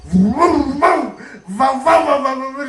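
A voice imitating a dog barking, giving several loud, close, pitched yaps and woofs in two bursts separated by a short pause.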